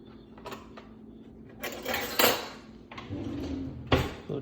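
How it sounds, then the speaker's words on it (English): Metal kitchen utensils clink and rattle in a few scattered bursts while a large spoon is fetched beside a pan of browning butter, close and moderately quiet. "let me get a large spoon"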